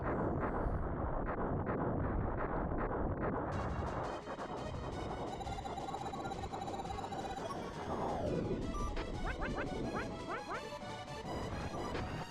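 Carrier core being destroyed in Star Fox 2, a heavy rumbling explosion of crunchy retro game blasts that carries on for several seconds and mixes with chirpy electronic effects and a synth tone.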